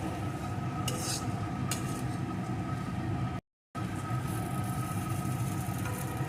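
Oats sautéed with vegetables in a pan, a steady dense frying hiss with a few spatula clinks, cut by a brief moment of silence partway through.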